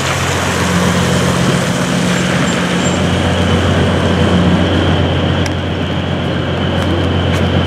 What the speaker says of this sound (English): Brogan, Scarlett, look at the train in Alaska